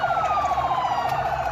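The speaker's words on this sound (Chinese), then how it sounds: "救护车急忙赶往现场" An ambulance rushes toward a car bomb attack at a night market in Azaz, northern Syria. Its siren wails loudly and continuously with a rising and falling tone, heard clearly without voices.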